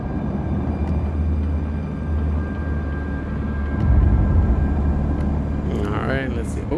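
A DUNE ornithopter in Microsoft Flight Simulator 2020 flies over desert rock formations with a constant deep, whooshing rumble that swells midway, and a voice speaks briefly near the end.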